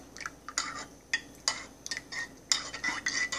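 A spoon stirs cacao nibs into coffee in a cup, with repeated light metallic clinks and scrapes against the cup in an irregular rhythm, close and fairly quiet.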